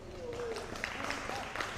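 At a schools table tennis match, teammates clap steadily through the point, soft scattered claps under a commentator's talk and faint hall noise.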